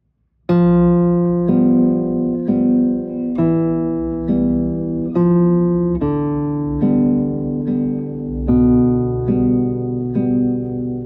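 A single classical guitar plays a short exercise from Sagreras Book 1, a steady series of about ten plucked notes and chords with thumb bass on open strings, close and clear, ringing with sustain.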